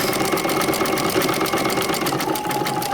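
Vintage sewing machine stitching a quilt at a steady constant speed, a loud continuous rapid mechanical chatter with a fast even rhythm of needle strokes, heard close and alone.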